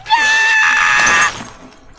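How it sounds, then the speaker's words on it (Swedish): A mirror shattering from a sung high C in a 1973 record: a bright crash of breaking glass over a sustained high sung note, which cuts off and leaves a fading tinkle. "Oj, spegeln gick sönder."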